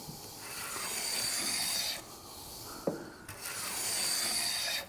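A hand plane shaves fine curls off a wood surface in long, soft, hissing strokes, close and fairly quiet, with a small knock partway through.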